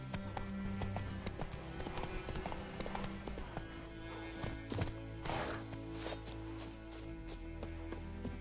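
Roach the horse galloping in the video game Witcher 3: Wild Hunt, a rapid steady rhythm of hoof clip-clops close up over a dense game soundscape of music and ambience, with a voice talking briefly.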